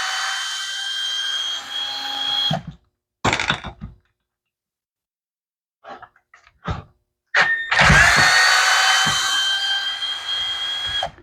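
Power tool loosening the ignition coil bolts on an Echo SRM 225 string trimmer: close, loud bursts of whirring with abrupt stops and short silent gaps, no speech.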